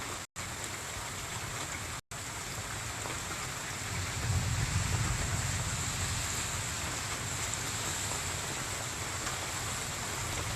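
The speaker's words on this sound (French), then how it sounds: "Là, ben, forte pluie là actuellement." Heavy rain pours steadily from an isolated storm band, a dense broadband roar that holds evenly throughout and swells slightly in the low end partway through, with no voices.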